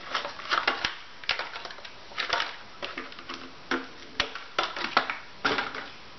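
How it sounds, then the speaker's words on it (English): Scissors or a blade cut through a used plastic laundry bottle to remove its handle, giving a series of close, crunchy snips and cracks in irregular bursts. "I'm going to first just cut out the handle"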